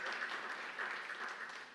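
Audience applause in a downtown church gathering, a steady wash of many hands clapping at fairly low level, dense and continuous for a couple of seconds with no voices standing out.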